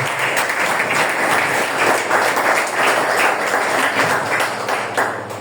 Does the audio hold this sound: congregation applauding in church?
yes